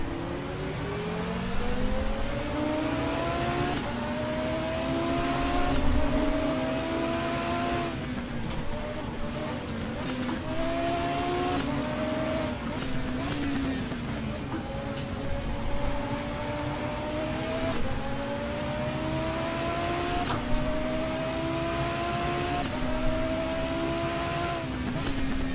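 Race car engine in the sim racing game Race07, STCC touring car at Valerbanen, revving steadily through gear changes and corners for the whole stretch, with rising and falling pitch sweeps and some faint tyre and curb noise.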